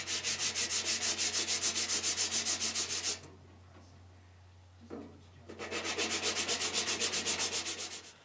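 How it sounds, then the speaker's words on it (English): A ukulele nut blank is rubbed back and forth on sandpaper in steady, even strokes, close and loud, pausing for a couple of seconds mid-way before the rhythmic rasping resumes. "A little bit of touch-up work with some sandpaper"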